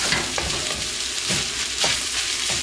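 Jerk chicken fried rice stir-fried in a wok, a continuous loud sizzle broken by rhythmic scraping and tossing strokes, with no voices.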